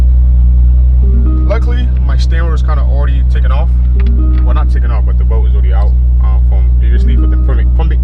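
A BMW 540i, a wrecked car being rebuilt with a full M5 LCI kit, runs with a steady, loud, low engine rumble that holds unchanged throughout while someone talks over it.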